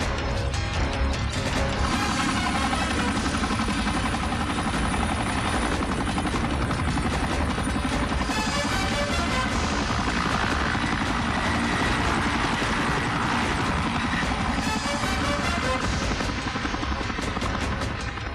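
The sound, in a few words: helicopter flying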